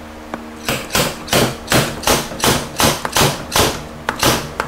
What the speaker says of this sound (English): I'm gonna put my slide hammer there and see if I can get it off with my slide hammer